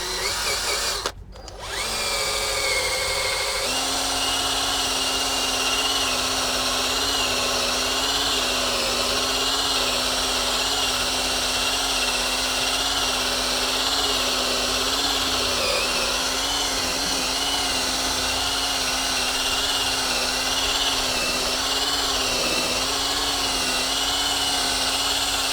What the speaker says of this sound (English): we're going to use a lamb's wool mop on a drill bit